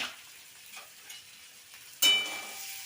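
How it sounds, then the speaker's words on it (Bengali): Onions frying in a pan with salt and turmeric, giving a faint, steady sizzle with soft stirring scrapes, then a sudden louder metallic clatter and brighter sizzle near the end. "নুন হলুদ দেওয়ার পরে পেঁয়াজটাকে সুন্দর করে ওপর নিচ করে নেড়ে চেড়ে হালকা ভাজা করে নিতে হবে"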